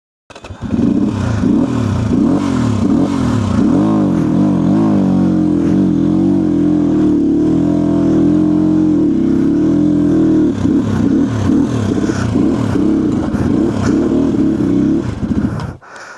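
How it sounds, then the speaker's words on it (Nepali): A motorcycle engine labours loudly and continuously on a steep mountain trekking trail, droning with uneven surges and dips as it strains up the slope, close by and dominating. "तान्दैन क्या यार बाइकले त"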